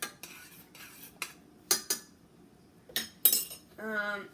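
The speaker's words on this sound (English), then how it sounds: "Okay. Stir that up." A spoon stirs a homemade marinating sauce in a bowl, giving several separate clinks and scrapes against the dish, fairly close and alone, ending in a brief tonal ring.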